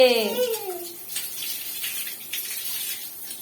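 Water runs from a tap in a steady splashing gush that follows a brief voice at the start and continues alone.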